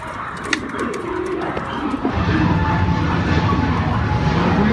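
A pigeon flaps and flutters near a loft trapdoor, brief wingbeats and scuffles at first, then a steady low aircraft engine drone swells in the background.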